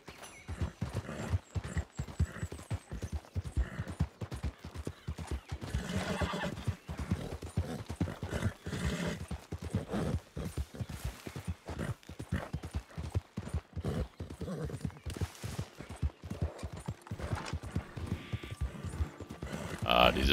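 A horse in Red Dead Redemption 2 gallops with steady rhythmic hoofbeats and lets out loud whinnies over rustling game ambience, with a voice talking at points.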